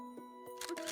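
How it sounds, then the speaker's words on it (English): A phone camera shutter sounds once, a short clicking burst over a steady background tone, fairly close and clear with no talking. "She flinches when she hears the phone's shutter sound."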